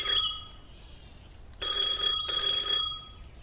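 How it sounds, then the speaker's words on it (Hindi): A telephone rings with a bright electronic trill, a short burst followed by two longer rings after a pause, loud and close. "तभी उसका फोन बजता है।"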